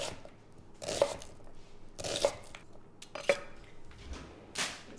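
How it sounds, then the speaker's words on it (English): A knife chops a medium yellow onion on a board, with about five crisp, evenly spaced cuts close by and no talking. "I just need to chop 1 medium yellow onion"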